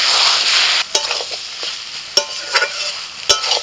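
Fried potatoes, stems and soybean chunks tossed into spice paste in a hot pan, a steady sizzle, then several sharp scraping stirs and clatters of a spatula close by.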